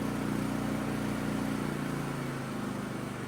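A Philking PK4200ie2a inverter generator runs at high RPM with economy mode off, giving a steady, close engine drone with a humming tone that eases slightly partway through.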